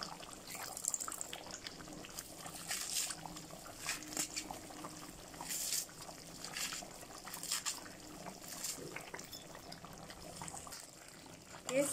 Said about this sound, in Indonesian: sekarang saya nak masukkan sayur murenggai ya. Saya dah rendam dalam air.